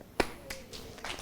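A single sharp clap from an audience at an academic congress sounds once near the start, followed by a few fainter scattered claps and taps in a quiet hall.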